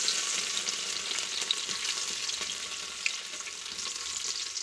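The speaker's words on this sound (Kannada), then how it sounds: "ಮೀನು ಸಾರಿಗೆ ಬೆಳ್ಳುಳ್ಳಿ ಮತ್ತು ಹುಣಸೆಹಣ್ಣು ಜಜ್ಕೊಂಡಿರೋಂಥ ಬೆಳ್ಳುಳ್ಳಿನ ಹಾಕ್ತಾಯಿದ್ದೀನಿ." Crushed garlic fries in hot oil for fish curry, giving a dense, even sizzling hiss that holds steady throughout with a few faint pops and crackles, close to the pan.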